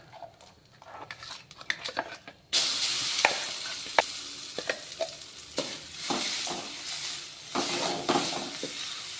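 Tomato chutney hits a hot pan for a quick stir, bursting into a loud, continuous sizzle after a few light clinks, with repeated spatula scrapes ticking through the hiss.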